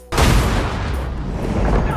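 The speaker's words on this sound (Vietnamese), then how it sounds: "Sau tiếng nổ vang trời, Pennywise xuất hiện nở nụ cười man dợ" A sudden loud explosion from the horror film It Chapter Two bursts in abruptly, followed by a sustained booming, rumbling roar.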